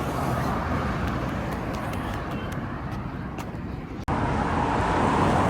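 Dense city street traffic in Najaf, Iraq: a steady roar of cars and road noise close by, continuous throughout with a brief dip before resuming loudly.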